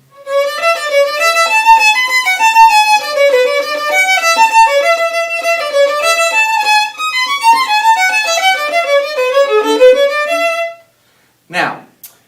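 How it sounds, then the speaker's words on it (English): A solo violin plays a passage from La Bella Cubana by Jose White at tempo: a clear, continuous melodic line of rich bowed notes for about eleven seconds, then a brief stop and a short final sound. "So I'm going to play a little bit a tempo"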